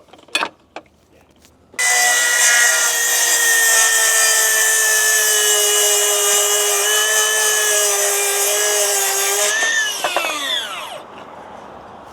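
A Makita XGT 40V cordless circular saw, blade set to a 30-degree bevel, cuts through wood: a few short clicks, then a loud, steady high whine for about eight seconds that winds down as the blade spins to a stop.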